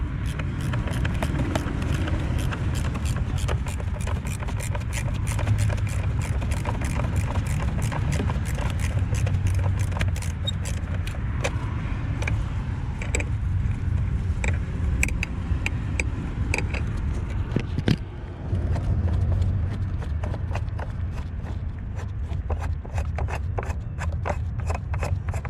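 A nut on a Mazda car battery is loosened with a ratchet, giving a long run of rapid, close clicking strokes with brief pauses.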